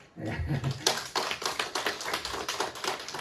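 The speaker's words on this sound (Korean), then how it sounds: "우리 한번 신혼부부에게 축복의 박수를 한번 보내드릴까요?" A church congregation applauds a newlywed couple back from their honeymoon during a Sunday worship service, a steady patter of many hands clapping close by, fairly quiet overall.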